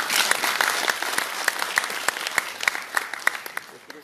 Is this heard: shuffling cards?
no